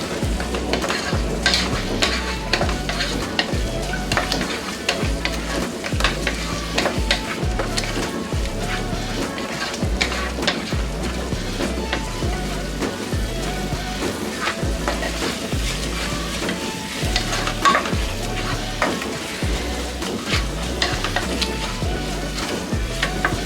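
Onion masala stirred and frying in a pan, a steady sizzle with repeated rhythmic scraping of the spoon against the pan throughout, close and fairly loud.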